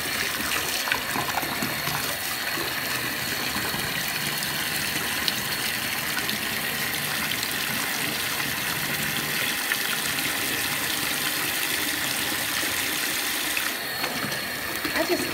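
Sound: water spraying into a bathtub

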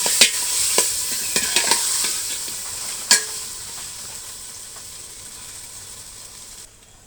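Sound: frying chopped onions and chicken meat

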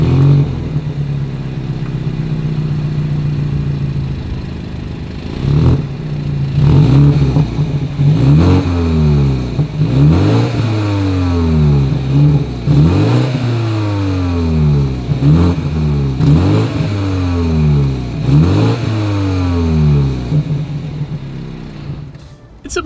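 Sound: BMW X3 exhaust revving

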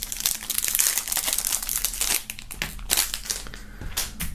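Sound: crinkling plastic foil wrapping on unboxed items

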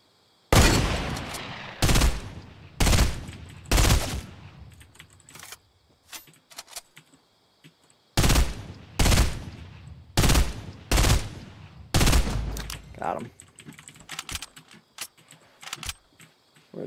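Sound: hunting rifle gunfire in a video game

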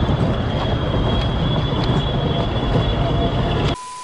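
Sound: maintenance train running on mountain railway tracks

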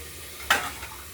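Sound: stirring cauliflower and peas frying in a wok

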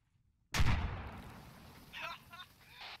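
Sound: gunfire at explosive-rigged plane in a video game

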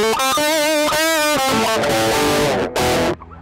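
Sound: electric guitar through TSE 808 pedal and Emissary amp plugins

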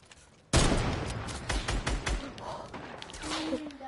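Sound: gunfire in a video game

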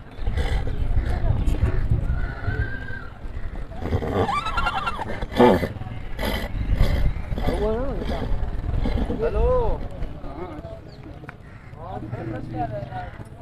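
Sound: horse at a horse market

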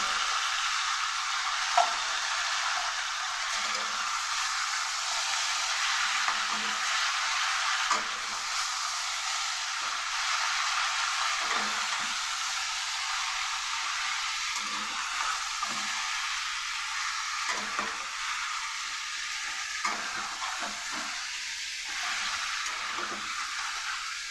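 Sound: frying chicken with salt and turmeric

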